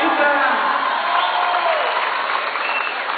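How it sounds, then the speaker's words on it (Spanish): A crowd applauds a woman named Lupita at an emotional stage event, loud sustained clapping with some cheering, fading slightly toward the end under a speaker's voice. "¡Un aplauso para Lupita!"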